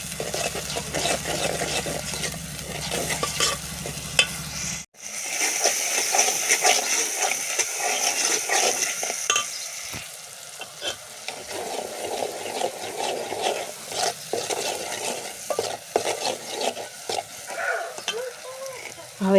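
Potato gravy simmers and is stirred in a pot. A steady low hum runs for the first few seconds, then a bubbling, crackling sizzle and scraping stir sounds continue close by, rising and falling.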